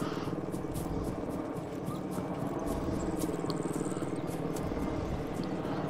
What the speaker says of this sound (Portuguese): Isso aqui que é um helicóptero armado até os dentes com muita raiva.